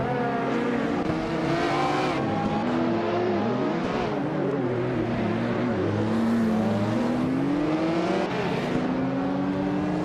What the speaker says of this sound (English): Bot Aerotech has overtaken the previous leader to take the lead at the front of the pack